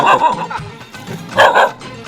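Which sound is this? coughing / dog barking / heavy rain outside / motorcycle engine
dog barking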